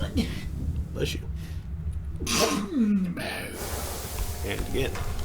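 A single sharp sneeze bursts out from a person close by, loud and abrupt, with voices talking around it during a game session.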